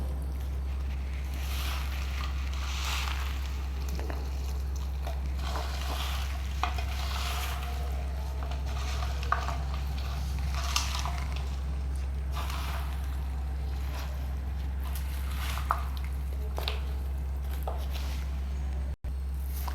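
Broad bean pickle is stirred by hand in a large batch, steady wet squelching and slopping bursts repeating irregularly over a constant low hum, with no talking.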